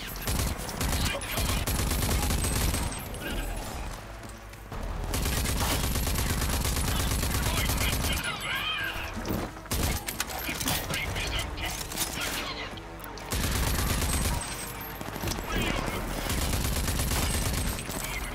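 Bursts of rapid automatic gunfire in the video game Rage 2, long loud volleys broken by brief pauses, with game sounds and some talk mixed in.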